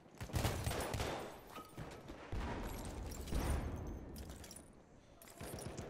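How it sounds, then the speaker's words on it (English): Rapid, overlapping gunfire from several shooters in the video game Battlefield 1, a continuous crackling fusillade with bursts that rise and fall, heard at a moderate distance with no talking. "There's a lot of people shooting here."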